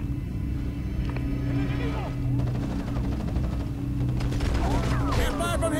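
Machine gun fire in Ghost Recon Advanced Warfighter 2, rapid crackling bursts beneath a steady engine or helicopter drone, fairly loud and continuous, with voices talking over the battle sounds.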